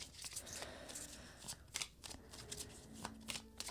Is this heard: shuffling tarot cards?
yes